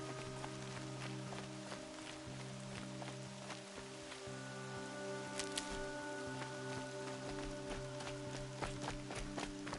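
Steady rainfall patters across surfaces in the video game Horizon Zero Dawn, a continuous close hiss mixed with tonal game music and occasional splashy footsteps.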